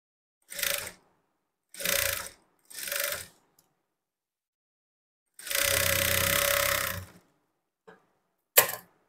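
A sewing machine stitches the edge of a lined blouse made of Poonam cloth in three short bursts, then a longer steady run and a final quick burst, close and clear between silent pauses.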